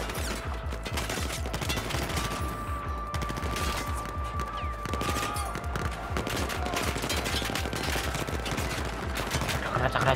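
Rapid automatic gunfire crackles like firecrackers in the Battlefield 4 video game, dense repeated bursts of shots continuing steadily, with a player talking faintly underneath.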